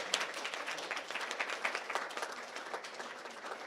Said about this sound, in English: give a round of applause to our amazing panelists